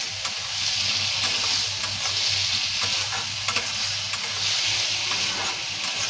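Chana dal (split chickpea lentils) being sautéed in a pan with turmeric during cooking, giving a steady close sizzle with frequent spoon-stirring scrapes throughout and no talking.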